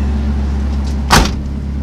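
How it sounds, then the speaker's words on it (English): A car door shuts on a Honda S2000 roadster with its roof up, giving a single short thud over the steady low hum of the running engine. "Close the doors now."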